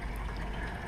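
Water forced up through a media reactor tube on a saltwater aquarium setup, a steady close rushing flow with constant gurgling wash and no pauses.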